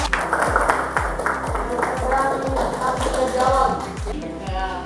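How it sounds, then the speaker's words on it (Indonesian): Classroom applause for a student discussion group, steady rhythmic clapping from a group of students, fairly loud and continuous throughout. "kita beri aplaus dulu untuk kelompok 2"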